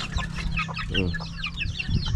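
Chickens cluck repeatedly in short, overlapping bursts, fairly close, with a low steady hum in the background.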